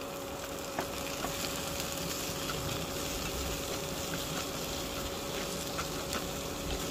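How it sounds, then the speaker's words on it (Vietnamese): Tomatoes and eggplant stir-frying in a pan for a vegetarian dish, giving a steady close sizzle with light crackling and occasional soft clicks of stirring, no talk. "Rồi cứ vậy mình xào cho cà chua nó mềm ra luôn hết quý vị."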